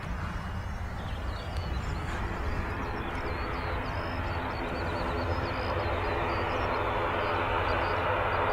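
A propeller aircraft taking off at Manchester Airport, heard as a steady, loud, broadband engine roar that fills the whole stretch at constant strength, with no talking.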